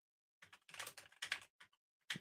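Quick bursts of keystrokes on a computer keyboard, close and fairly quiet, clattering in four or five short clusters separated by brief pauses.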